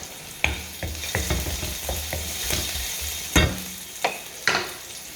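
Peppers fry in a hot pan for salt and chilli pepper chips, giving a steady close sizzle broken by several sharp scraping stirs and clatters of the utensil against the pan.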